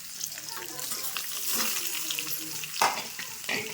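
Ridge gourd stuffed with a spiced filling fries in a pan after garlic, making a continuous sizzle broken by a couple of sharper stirring clatters.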